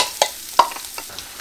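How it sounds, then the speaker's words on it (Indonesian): Spice paste for sayur lodeh is sautéed in oil in a pan, a soft sizzle punctuated by four or five sharp scrapes of a spatula at uneven intervals, close by with no talking. "Kita tumis dulu bumbu-bumbunya."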